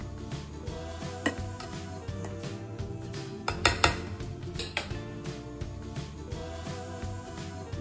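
Boiled rice is tipped into a pot of marinated prawns for biryani, giving scattered clinks and metallic knocks of utensil on pot over steady background music, with no one speaking.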